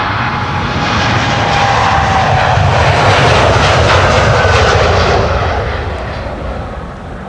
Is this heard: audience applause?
no